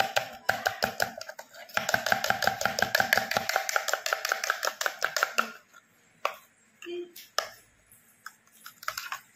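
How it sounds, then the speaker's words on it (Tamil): Ghee worked by hand into onion seedai dough, a fast, steady run of close wet slapping and squelching for several seconds, then slowing to a few scattered pats and taps. "இதை மட்டும் நம்ம ஊற்றி நல்லா கலந்துடணும்."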